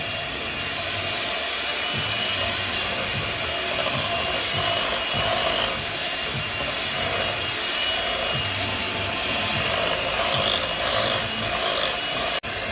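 An electric hand mixer whirs continuously through soft boiled potatoes and cream, a loud close motor drone with rubbing, churning texture as the beaters work the mash.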